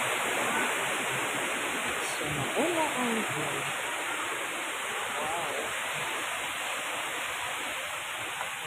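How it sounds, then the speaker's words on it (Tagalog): Constant roaring rush of water from the Panas waterfall, loud and continuous throughout, with a person briefly speaking over it. "ragasa pa lang sa tubig"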